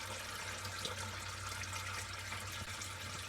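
Transmission fluid splashes and pours steadily out of a lowered Chevy 6L90E transmission pan, a continuous close hissing trickle of liquid heard alone without talk.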